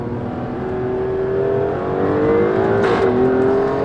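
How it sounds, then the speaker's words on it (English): An Alfa Romeo Stelvio Quadrifoglio sports SUV revs hard through rising gears in dynamic mode, a loud rasping exhaust note climbing in pitch, with a sharp crackle near the end. "the first thing you will get from the back of this car is the loudest farting noise of any car I've driven"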